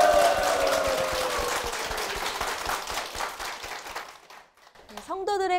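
A church congregation claps steadily, fading gradually before a short lull, after which music starts up.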